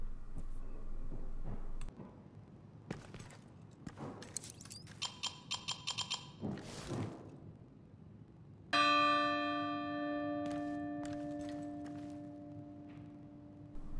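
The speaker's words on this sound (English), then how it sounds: "you know the job's done when you hear the bell" A bell in The Division 2 rings out after a stretch of quieter game sounds, striking with a bright metallic clang and leaving a long, sustained ringing tone that slowly decays over several seconds, with no talk.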